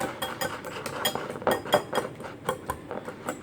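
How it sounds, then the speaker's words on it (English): A whisk beats eggs seasoned with a pinch of salt for a mozzarella cheese omelette, giving a quick run of close metallic clinks and taps against the bowl in an uneven rhythm, with no talking. "Give it a whisk."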